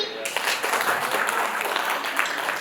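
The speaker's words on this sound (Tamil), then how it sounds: "இன்னும் கூட சத்தமா ஒரு கைத்தட்டல் நம்ம கொடுக்கலாம்னு நினைக்கிறேன்" Audience at a family event giving applause, a close, steady crackle of many clapping hands with a voice briefly heard at the start, holding at moderate level throughout.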